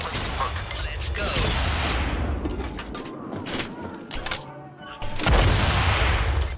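Gunfire during a video game heist, repeated loud shots and booms amid clattering mechanical noise, with a brief lull before another heavy blast, and voices heard in the mix.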